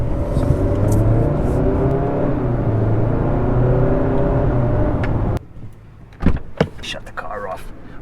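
Hyundai Santa Cruz pickup running with a steady engine hum, then cutting off abruptly to near silence, followed by a few faint clicks and a short whir.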